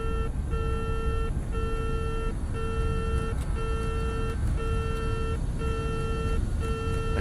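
Repeating cockpit warning tones sound in an RJ85 flight simulator because the trim is not set, regular beeping pulses that stop and restart about once a second over a steady loud hum of cockpit noise.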